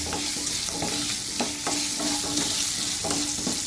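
Onions with turmeric sauté in a pan for Kerala ulli theeyal, with a constant bright sizzle and a rhythmic series of spatula scrapes and taps against the pan, close and alone.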